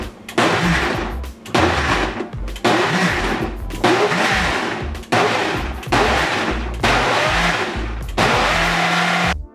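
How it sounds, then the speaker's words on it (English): A Ninja Ultima blender makes a smoothie with frozen fruit, running loudly in repeated short pulses of about a second each, motor roaring and contents churning, with brief gaps between bursts. "Oh yeah, that's our Ninja Ultima blender."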